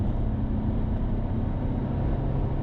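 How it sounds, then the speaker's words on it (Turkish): A Fiat Doblo Premio Plus 1.6 Multijet diesel engine accelerating, heard from inside as a steady, loud low drone of engine and road noise with no talk. "Şimdi arkadaşlar gazı açtım biraz."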